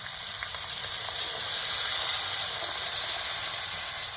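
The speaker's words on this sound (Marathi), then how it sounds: "कालवणाला आता उकळे आले" Fish curry boiling in a pot over a wood-fired stove, giving off a steady bright sizzle and bubbling hiss that holds at an even level throughout, with no voices.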